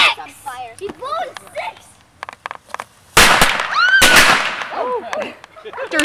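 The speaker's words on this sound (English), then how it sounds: "This is what happens when you blow up Jello." A firecracker goes off inside a bowl of Jello: a loud sharp pop and crackling burst mid-clip, set among excited shouting and laughter from people nearby.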